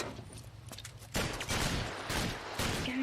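Heavy bursts of gunfire in the crime game L.A. Noire, quieter scattered shots giving way to loud, sustained volleys that continue to the end.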